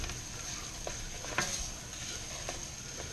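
Rice going into hot oil in a pan for Savannah red rice gives a soft, steady sizzle and patter, with a few scattered clinks and scrapes over the frying hiss.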